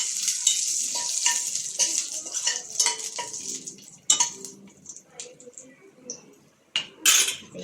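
Spices for Maharashtrian spinach amti crackle in hot tempering oil while a spoon stirs and clinks against the pan, a steady close sizzle with sharp metallic taps scattered throughout.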